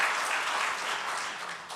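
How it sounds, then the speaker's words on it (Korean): A church congregation applauding steadily during a Sunday service, a dense wash of clapping that fades slightly toward the end. "감사의 박수를 한번 보내주시기를 바랍니다"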